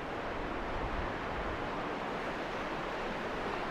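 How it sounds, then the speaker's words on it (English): Steady broadband rush of a mountain waterfall along the Annapurna Circuit trail in Nepal, a continuous even roar with no breaks, heard alone without voices. "There's a waterfall."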